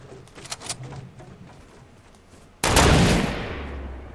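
A sharp, loud sniper shot in Fortnite cracks out after quieter game ambience and a few soft distant pops, with a long ringing tail.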